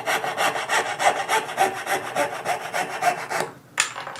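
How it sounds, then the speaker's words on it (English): A hand saw with a 17 teeth-per-inch blade cuts through a wooden guitar headstock in quick, even rasping strokes, about two per second, close and loud, with no talking, ending in a sharp final scrape. "Now before I finish the cut, see how the back of the saw, this curved part, is clearing the piece real nicely."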